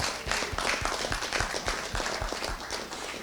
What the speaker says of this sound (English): let's give a round of applause to the people in the audience for their willingness to be here tonight.